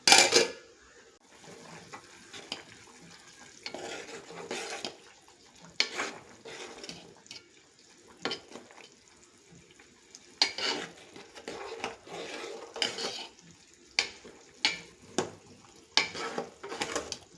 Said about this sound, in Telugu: బాగా కలుపుకోవాలి. మూత పెట్టి మగ్గించుకుందాం.